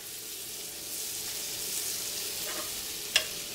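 Butter, about three tablespoons, melting in a pan on a stovetop at medium heat gives a soft, steady sizzle throughout, with one brief sharp tick near the end.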